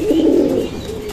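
A pigeon of a fine breed gives a close, loud, low coo, one rolling call that fades near the end.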